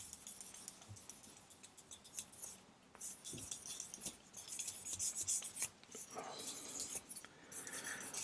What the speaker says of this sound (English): So we can polish that up now. So 4000 grit.